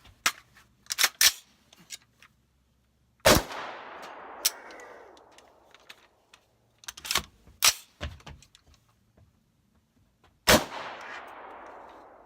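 Single sharp gunshots from a Radical Firearms AR-style rifle upper, fired one at a time with gaps between them as it malfunctions into single-shot operation; each report is loud and cracking, followed by a decaying echo, with some handling clatter in between.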